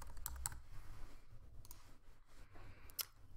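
A computer mouse clicking at a desk, a few sharp, close clicks spaced irregularly over faint room noise.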